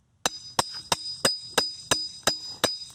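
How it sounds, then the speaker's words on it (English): Nine evenly spaced, sharp metallic strikes ring out as a hammer drives a large brick-cutting chisel into a log to strip its bark, each hit crisp and close with a short ringing tail. "So with the big chisel, this brick cutting chisel,"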